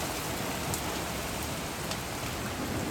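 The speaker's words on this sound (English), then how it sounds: "I love to see how the rain's coming down on the street over there" Steady rain pours onto a street in Tennessee, a dense, even hiss of drops that holds at a constant, fairly close level with no voices over it.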